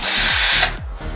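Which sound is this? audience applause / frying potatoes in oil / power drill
power drill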